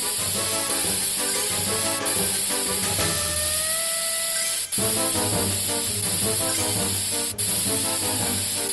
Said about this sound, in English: Use the spray to remove all the concrete.